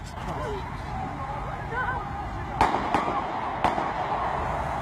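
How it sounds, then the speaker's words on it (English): Three sharp, loud gunshots ring out in quick succession outdoors near the British Houses of Parliament during a 2017 terrorist attack, following a stretch of distant crowd noise and shouting, captured on a phone. "A tourist's cell phone captures people fleeing as gunshots were heard outside the British Houses of Parliament."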